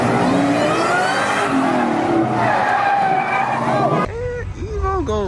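Cars at a street car meet, including Mustangs and an Evo, rev and squeal loudly through aftermarket exhaust in overlapping bursts, with a sharp engine rev rising and falling near the end amid crowd chatter.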